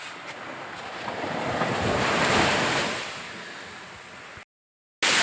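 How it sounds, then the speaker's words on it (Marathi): Ocean waves roll and break on a Konkan beach, a steady surf wash that swells to a peak and then eases, with wind brushing the microphone before a brief cut to silence. "अथांग असा समुद्र."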